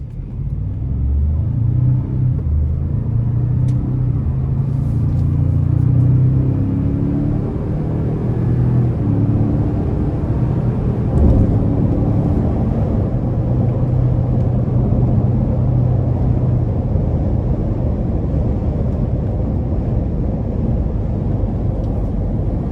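A 2025 Ford Expedition Max Platinum pulls hard up an interstate on-ramp, heard from inside the cabin as a loud, sustained low engine drone that swells and then holds over road rumble, with no talking.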